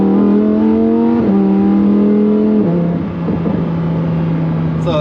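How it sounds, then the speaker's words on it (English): A Lamborghini in sport mode accelerating and downshifting, heard from inside the car as a loud, steady engine tone that steps up and drops in pitch at each gear change, then settles into a smooth drone. "I'll show you guys a little bit what it sounds like in sport here."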